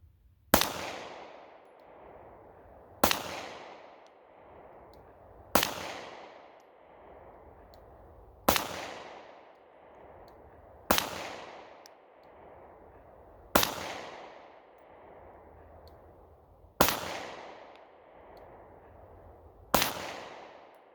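Eight sharp, loud gunshots from a Smith & Wesson Equalizer pistol firing from a 15-round magazine at a range, spaced at a slow, even pace of roughly one every three seconds, each followed by a brief ringing decay.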